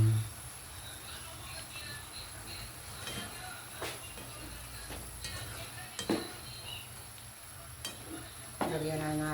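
An egg fries in a home pan with steady sizzling and stirring scrapes, a few louder utensil clinks scattered across the clip.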